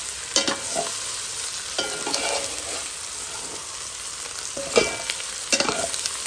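Smoked cabbage stirred in a frying pan, with a spoon scraping and scooping in a few distinct bursts over a steady background sizzle; close and moderately loud, no voices.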